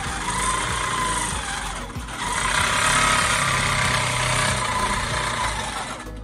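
A long-arm quilting machine runs free-motion stitching rows, giving a steady, loud mechanical whir and hum with a faint rapid needle chatter that swells slightly midway and continues throughout.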